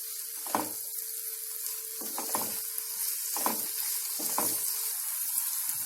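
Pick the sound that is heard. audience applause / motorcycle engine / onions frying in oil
onions frying in oil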